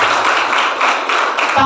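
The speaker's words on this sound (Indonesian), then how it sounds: "Tepuk tangan untuk Mas Din" Dense, steady audience applause fills a formal gathering at an IPNU Makesta event held at Tanwirul Qulub Islamic boarding school, sustained for the whole moment with no break.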